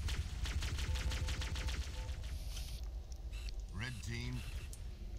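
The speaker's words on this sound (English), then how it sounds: "I think I'm getting shot at." Halo gunfire rattles off in a rapid, evenly spaced burst of sharp shots for about two seconds, then fades as a voice speaks over the quieter background.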